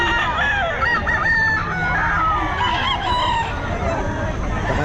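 Several chickens cluck and a rooster crows amid a busy, noisy crowd at a pet market, with loud overlapping poultry calls throughout.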